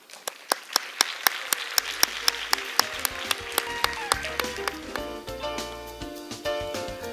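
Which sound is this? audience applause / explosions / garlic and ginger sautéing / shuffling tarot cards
audience applause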